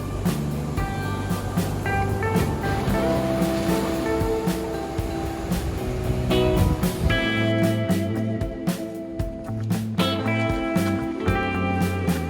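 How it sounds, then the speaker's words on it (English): Thunderous surf pounds a windswept cove ringed by craggy rocks near Barra de Navidad, a continuous heavy roar of breaking waves with surges and hissing wash, close and loud throughout. "a windswept cove ringed by craggy rocks and pounded by a thunderous surf"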